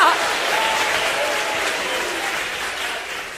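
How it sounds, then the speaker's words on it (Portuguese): A church congregation claps together during a sermon, a steady, full burst of applause mixed with indistinct voices that tapers off slightly toward the end. "Mistura essas palmas com glória a Deus e aleluia."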